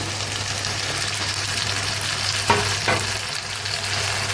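Potatoes frying in a pan as tomatoes and green chillies go in for egg-potato sabzi: a steady, close sizzle over a low hum, broken by two quick scraping stirs near the end.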